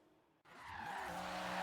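A BMW E30 M3 in Forza Horizon 3 pulls away on the road, its engine and tires rising from a brief hush into a steady, loud, sustained roar with a squealing edge that holds to the end.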